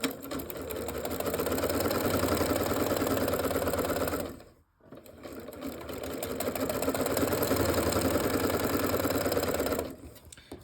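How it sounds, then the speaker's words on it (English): A sewing machine stitches quilt block fabric in long steady runs of rapid mechanical whirring, pausing briefly partway through before starting again, loud and close with no talking. "I'm going to flip it around, and I'm going to sew down on the other side."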